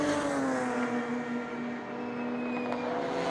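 Touring race cars at a Baltic Touring Car Championship round overtake on the straight, engines droning loudly at high revs and sliding gradually lower in pitch as they pass, with no voices.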